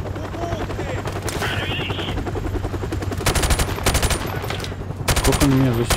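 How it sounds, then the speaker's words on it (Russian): A helicopter opens fire in the shooter game Call of Duty: Modern Warfare Remastered, with rapid machine-gun bursts cracking loudly over a steady rotor drone while game voices speak in between. "С вертолета что ли стреляет?"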